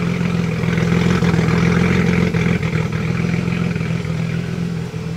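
A turbocharged Nissan Z engine runs steadily and loudly up close, a deep, even exhaust rumble with slight clattering texture and no talk over it.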